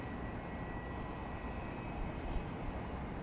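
A Boeing 737-700 arriving at Dallas Love Field gives a steady, broadband jet rumble at moderate distance, holding evenly throughout with no voices.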